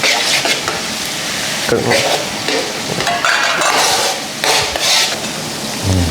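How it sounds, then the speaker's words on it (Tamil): Coriander sautéed in a pan for a vaalai fish curry, with steady scraping stirs and a continuous, fairly loud sizzle throughout. "இப்போ அடுத்து கொத்தமல்லி. அப்படியே அதில் வதக்க வேண்டியதா."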